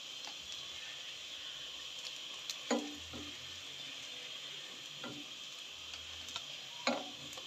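Noodle kebabs sizzle quietly in hot oil, a soft steady fry with a few faint clicks and taps of a utensil now and then.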